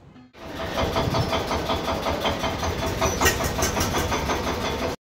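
A Mahindra 555 tractor with a side-shift gearbox starts up abruptly after a brief silence, then settles into a loud, steady diesel chug with a rhythmic knocking that holds for several seconds before cutting off.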